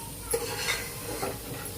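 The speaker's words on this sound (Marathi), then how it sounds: "ह्याला थोडंसं चांगलं तेल सुटेपर्यंत परतून घेऊया आपण." Food is sautéed in oil in a pan with a spoon stirring and scraping, giving soft clinks and a light sizzle. The sound is close but quiet and brief.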